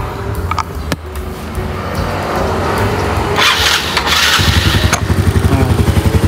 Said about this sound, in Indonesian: Gue bakal coba tes hidupin motornya.